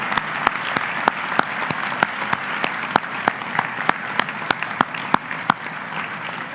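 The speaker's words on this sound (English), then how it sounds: "can give you a round of applause to say thank you for all that you have given them" Audience applause at a college matriculation ceremony, a sustained, dense patter of many hands with a few sharp, close claps standing out at irregular moments over the steady crowd sound.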